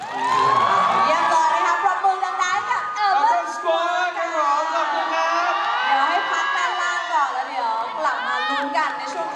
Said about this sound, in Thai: ปรบมือดังๆ